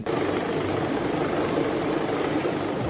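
A helicopter's constant, loud rotor and engine roar fills the air, steady and unbroken, with a thin high whine above it.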